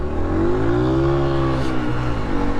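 A motorbike engine revs hard and steadily as it is ridden fast through bush, a loud, close, continuous drone with rising and falling pitch as the rider works through the gears.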